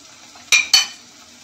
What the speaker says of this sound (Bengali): ভালো করে নেড়ে চেড়ে আঁচটা একটু বাড়িয়ে নিই